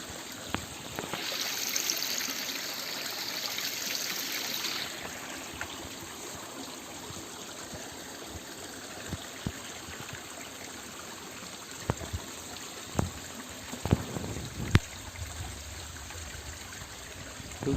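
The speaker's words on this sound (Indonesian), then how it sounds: "Itu air terjun pertama, ada 3 air terjun." Curug Kuwung waterfall flows as a continuous broad rushing wash, with scattered clicks and knocks from nearby footsteps or handling over the steady water noise.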